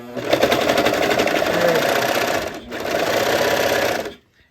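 A serger stitches and trims fabric in two fast, rattling bursts with a brief pause between them. The machine runs close and loud, then stops abruptly.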